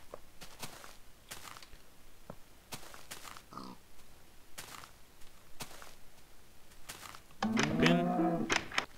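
Minecraft cows moo in a video game, with one longer low moo near the end after scattered clicks and shuffling game sounds, all fairly faint.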